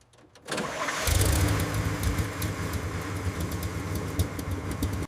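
A restored 1937 Chrysler Airflow coupe engine cranks and fires, then settles into a steady, loud idle close by, with faint ticking and tapping over the low rumble.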